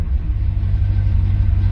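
A C3 Corvette V8 idles after a start, a loud, close, steady low rumble with a slightly uneven throb and no voices over it.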